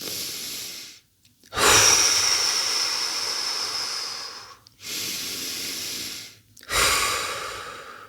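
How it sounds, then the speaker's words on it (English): Slow, deep belly breaths taken during a guided calming exercise: two long, loud airy inhale-exhale cycles separated by short pauses, close to the microphone with no talking. "let's just take some deep cleansing breaths together, okay? Let's do some belly breaths."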